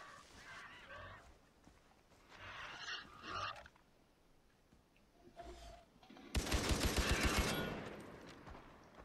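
Rapid gunfire in the video game Far Cry 3, aimed at birds: a loud, fast burst of shots near the end, after quieter scattered game sounds and calls.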